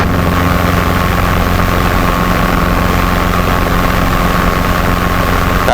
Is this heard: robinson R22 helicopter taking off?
yes